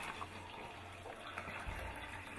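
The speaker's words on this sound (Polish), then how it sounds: "Woda leci." Water running from a water machine, a soft steady gushing and trickling stream, faint and close, with no talk over it.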